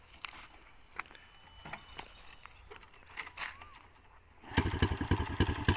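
Honda Wave 110i motorcycle fitted with a can exhaust, 53 mm, starting up and then revving hard and loud up close, preceded by quieter clatter and handling noises.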